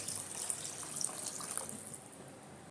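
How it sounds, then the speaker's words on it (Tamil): Water poured steadily into a cooking pan while making a chutney or kuruma, a soft continuous trickle and splash heard close but quiet, with no talking. "இப்போ வந்து இது கூட தேவையான அளவு தண்ணி வந்து ஆட் பண்ணிக்கிறேன்."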